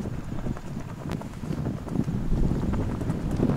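Steady wind gusting across an open golf course on Mackinac Island, a broad low rumble and buffeting against the microphone that swells slightly louder midway and stays constant throughout.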